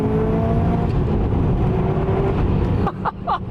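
A Subaru Impreza WRX STi S204 with a 2-litre engine and equal-length headers gives a loud, smooth engine drone that rises in pitch. Sharp bursts of revving follow near the end.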